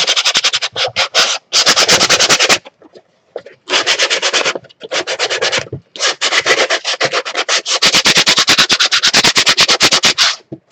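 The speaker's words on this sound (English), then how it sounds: "Okay, sanding." Close, rhythmic sanding strokes rasp against wood in bursts, each run of rapid scrubbing separated by short pauses.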